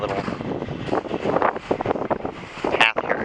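Strong west wind roars and buffets the microphone during snowy weather, a constant rushing gust with no pauses.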